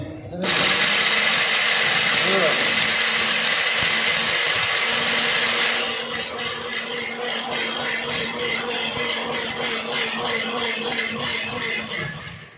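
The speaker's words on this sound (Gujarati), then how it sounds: "મિક્સર ચાલુ કરો ને તમે" A mixer grinder whirs loudly and continuously, grinding babul pods into powder, its tone shifting partway through into a rattling churn as the contents break down.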